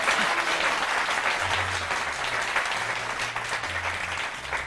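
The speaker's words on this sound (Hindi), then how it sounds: "तालियां बजा के दोबारा तालियां हो जाएं।" Steady, dense applause from a crowd, loud and continuous throughout with no break.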